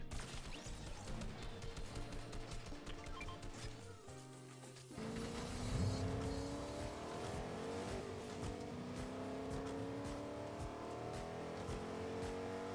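A truck in the Fortnite video game drives up a mountain over old ramps. Its engine drones quietly, then climbs steadily in pitch as it accelerates, with no talk.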